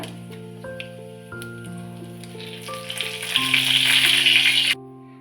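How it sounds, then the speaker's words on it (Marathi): Cumin seeds and bay leaf hit hot oil in a wok, a close sizzle that swells and crackles loudly over background music, then cuts off suddenly. "कढईमध्ये घालूया तेल, तेल गरम झालेलं आहे, त्याच्यामध्ये घालूया जिरं, तमालपत्र,"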